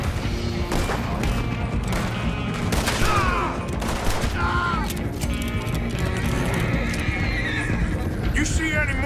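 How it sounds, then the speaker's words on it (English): Horses in the Red Dead Redemption 2 video game whinny repeatedly over steady clip-clopping hooves on a road, with gunfire and shouting voices mixed in throughout. "let's get these horses to Clemens Cove quick before we run into any more trouble"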